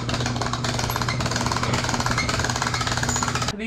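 A pig barn ventilation inlet being cranked shut by a mechanical drive, giving a loud, continuous rattling mechanical hammer with a steady hum throughout, cutting off abruptly at the end.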